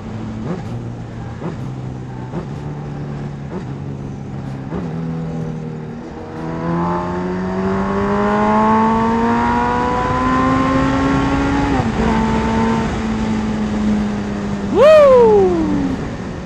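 A Suzuki Hayabusa motorcycle engine heard from the saddle, with steady engine pulses, then a downshift and a rising, climbing whine as it accelerates hard, ending in a quick sharp rev.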